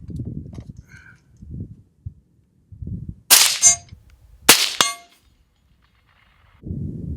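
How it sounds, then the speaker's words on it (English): A KAC SR25 semi-auto .308 marksman rifle fires two sharp, loud shots about a second apart, each followed by a ringing steel target clang, with quiet low rumbling between. "So, let's take a few more shots, see how it's running now."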